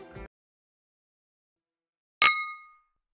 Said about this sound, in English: I use a glass cheers sound effect when bottles hit each other